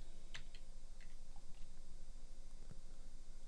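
Computer keyboard shortcut keys pressed during 3D modeling work: a few sparse, light clicks scattered over a quiet room hum, fairly close and soft.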